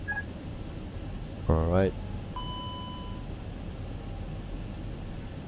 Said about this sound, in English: And there we have the alarms again. Annoying alarms.